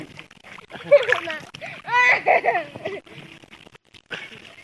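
People bathe and swim in a cold pond, with intermittent water splashes and sloshing close by, heard under children's and adults' voices talking.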